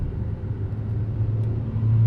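A car with a cheap aftermarket exhaust drones and revs nearby, a steady low rumble that swells louder toward the end, with no voices over it.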